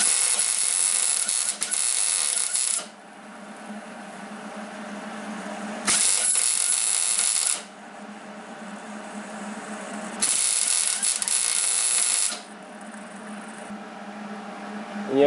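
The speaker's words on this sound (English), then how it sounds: "now we're just going to weld on a bead onto this bolt" Welding a bead onto a Subaru exhaust stud bolt during a head gasket teardown: three bursts of loud, harsh crackling buzz, each a couple of seconds long, separated by quieter pauses.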